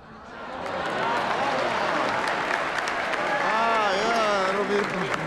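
Sustained audience applause fills the room, a dense wash of clapping with voices talking and calling over it throughout.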